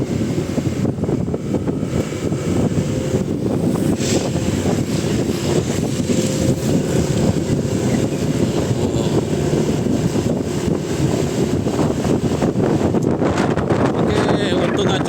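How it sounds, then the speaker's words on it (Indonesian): Strong wind buffets an outdoor field where an event stage is being set up, a steady broadband roar with gusty rumble throughout, loud and close to the microphone. "untung aja anginnya besar jadi nggak begitu panas loh"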